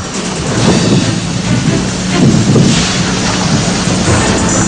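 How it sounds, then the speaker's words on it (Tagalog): Super Typhoon Haiyan's wind roars loud and unbroken in Negros Occidental, a heavy rushing howl with deep gusting surges that carry on throughout, with no voices. "tila sumasayaw rin ang mga puno sa hangin tila umaalulong"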